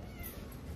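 A hungry house cat gives a single short, faint meow, brief and soft with no talking over it.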